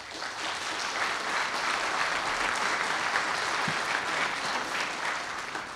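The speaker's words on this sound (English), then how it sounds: "If I could ask if we could refrain from the applause" A town meeting audience breaks into sustained applause, a dense, even wash of clapping from many hands that holds steady for several seconds without easing off.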